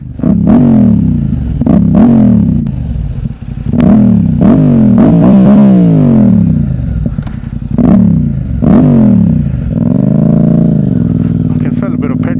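A Yamaha XSR700 motorcycle engine and exhaust rev repeatedly in loud rising and falling sweeps, labouring and uneven as if running rough, with a voice talking over it throughout.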